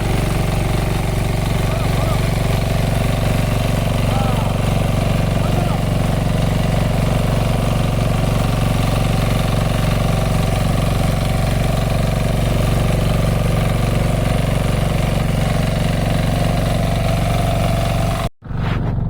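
Tractor engine running steadily and loud close by in a Konkan rice field at sowing time, a constant droning rumble for the whole stretch, cutting off briefly near the end, with voices in the background.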